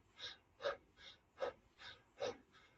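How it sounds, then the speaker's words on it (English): Rhythmic open-mouth breathing in a rebirthing breathwork heart-breath exercise: about seven quick, airy breaths in steady succession, close and quiet, with no talk. "So a simple heart breath would be a rebirthing breathwork technique of breathing into the heart."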